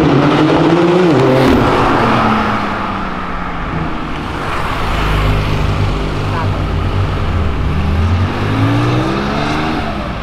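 White Porsche with a loud aftermarket exhaust accelerating and revving, engine pitch climbing in sweeps close by, with a sustained roar and people talking over it.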